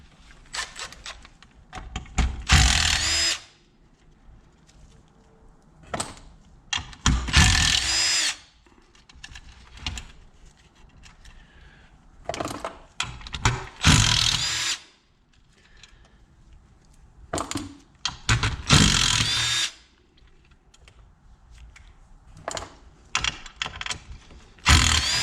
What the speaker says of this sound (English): Let's continue to take all these fasteners out.